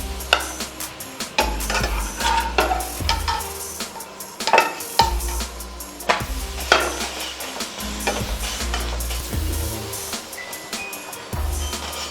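A sweet potato paratha frying in a pan, with a steady sizzle and repeated scraping, pressing and clinks of a spatula against the pan, close up and without talk.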